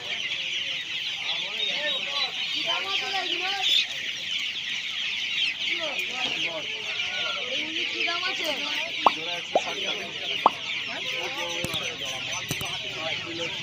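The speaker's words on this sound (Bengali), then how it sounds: "এখানে অস্ট্রেলিয়ান মুরগির বাচ্চা রয়েছে 160 টাকা করে জোড়া।" Australian chicken chicks at Uluberia's poultry market keep up a dense, steady chorus of shrill peeping with scattered clucks. A few sharp knocks and background voices sound through it.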